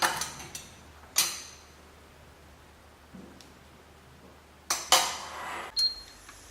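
Sugar, cocoa powder and water being mixed in a pot for a Dobos cake glaze, heard as a few scattered scrapes and clinks of a utensil against the pot, short and fairly quiet, with soft rustling between them.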